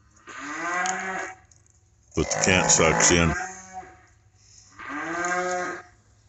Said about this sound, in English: it's just a few cows and calves that just aren't real happy because calf can't eat